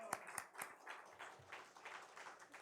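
Church congregation clapping during a Sunday worship service in Ulsan, with a few sharp early claps giving way to steady, diffuse applause from a crowd throughout.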